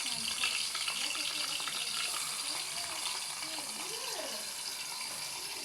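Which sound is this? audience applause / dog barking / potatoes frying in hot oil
potatoes frying in hot oil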